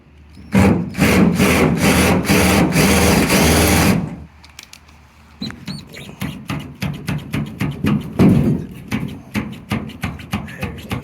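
Power drill grinding stripped screws out of the tailgate of a 1975 Chevrolet C10, heard close up as a long continuous burst followed by a quiet pause and then a run of short, rapid rasping pulses.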